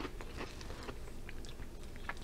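Crisp freeze-dried apple is bitten and chewed up close, with a string of brittle crunches and snaps over a quiet background.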